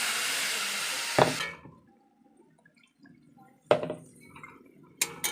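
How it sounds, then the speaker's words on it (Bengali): Water poured into a pan of spiced banana flower curry, sharp splashing hisses in three short bursts with quiet stretches between, close by and with no talk. "এবারে আমি জল দিয়ে দিচ্ছি।"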